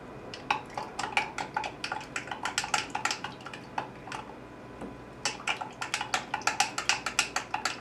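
A spoon clinks rapidly against a container while stirring seasoning into a liquid chicken injection marinade, a quick rhythmic tapping in two bursts, fairly faint, no talking.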